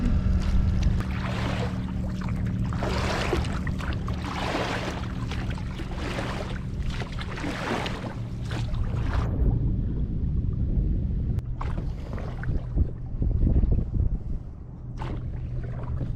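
Rowing a Corsair 880 trimaran in the Everglades: rhythmic oar strokes splash about once a second, then settle into quieter water sounds with occasional knocks, under steady wind noise.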